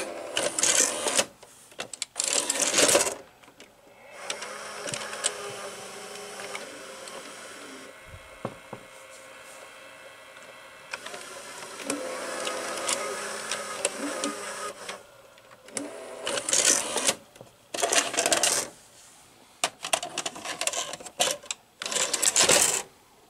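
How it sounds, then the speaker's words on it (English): Mechanical whirring and clicking from the cassette carriage of a Philips VR6620 VCR, with busy motor and gear bursts at the start and end around a quieter, steadier run in the middle, heard up close with no talking. "The cassette carriage mechanism sounds almost the same."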